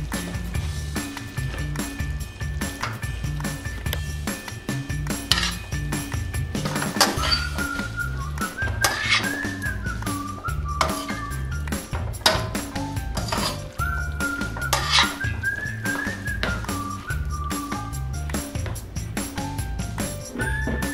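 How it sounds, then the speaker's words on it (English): Linguine and shrimp pasta is stirred in a pan with the heat off, giving soft repeated scraping and light clinks of utensil on metal, close and fairly quiet, with faint whistling tones in the background. "start stirring"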